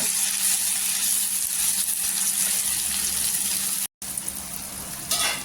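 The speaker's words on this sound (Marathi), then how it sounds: "आता तेलावर आहे ना, छान असा टोमॅटोचा पाणी करून घ्यायचा पूर्णपणे." Tomatoes cooking down in hot oil for a spicy chutney make a continuous hissing sizzle. It stays constant and fairly loud, with one brief dropout near the end.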